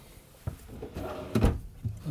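Drawers in a 2026 Newmar Supreme Aire 4505 motorhome slide open and shut, giving a few soft, close knocks and a brief rolling glide.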